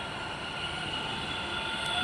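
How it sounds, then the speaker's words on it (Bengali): A metro train stands at a station platform, giving a steady, moderately loud rail hum and broadband rumble that continues evenly throughout. "এর সাইডে একটা মেট্রো এসছে"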